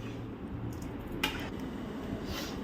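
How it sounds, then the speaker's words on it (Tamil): Thick black urad dal and palm jaggery kali being stirred in a pot, with a ladle clinking and scraping against the metal in a few light knocks over a steady low background, close by and fairly quiet. "கெட்டியார வரைக்கும் நல்லா கிண்டிகிட்டே இருக்க வேண்டியது."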